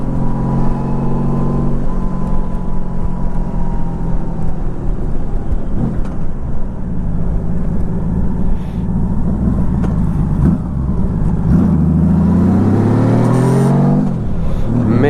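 A Honda Valkyrie motorcycle engine idles with a deep, loud, steady rumble, then revs up sharply several times near the end, staying close and continuous throughout.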